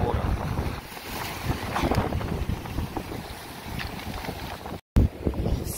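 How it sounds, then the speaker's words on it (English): Strong wind at a cold beach buffets the microphone in loud, rumbling gusts throughout, with a brief dropout near the end before the roar resumes. "it's windy"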